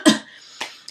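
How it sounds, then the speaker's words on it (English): A person with a cough lets out a short, sharp cough, followed by a couple of fainter breathy bursts, close and alone with no talk. "so I'm going to cough every once in a while."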